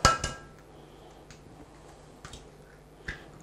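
Eggs crack against a bowl rim and drop into sifted flour for pancake batter: a few sharp, close taps and clicks, spaced apart, with quiet gaps between.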